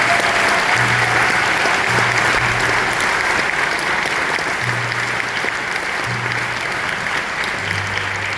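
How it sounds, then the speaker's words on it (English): Audience applause at a school band spring concert, a dense steady clapping crowd filling the room, loud and even throughout with a low hum underneath. "Can we give them one more round of applause for joining us today?"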